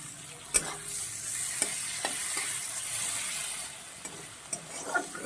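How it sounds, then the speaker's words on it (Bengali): Onion, garlic, tomato and chilli with a pinch of turmeric frying in a pan, a soft continuous sizzle broken by several sharp scraping stirs of the spoon, heard alone without talk. "এটাকে আমি সুন্দর করে ভেজে নেব, লাল লাল করে ভেজে নেব।"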